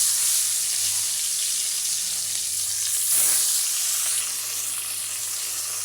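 Pieces of rohu fish fry in hot oil in a wok with a loud, steady sizzle and hiss. A brief burst of spattering comes midway, and no one speaks.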